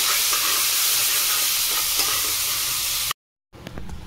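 Prawns with salt and turmeric are stirred as they fry in mustard oil in a wok. A loud, steady sizzle with faint scraping runs for about three seconds, breaks off into brief silence, then resumes more quietly.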